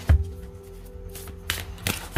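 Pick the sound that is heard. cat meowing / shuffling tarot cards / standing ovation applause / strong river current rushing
shuffling tarot cards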